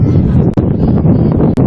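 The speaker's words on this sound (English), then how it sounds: "It's a little windy out here" Gusty wind buffets the microphone outdoors at a high school football game between Mercedes and Calallen, a steady low roar throughout with brief dips in intensity.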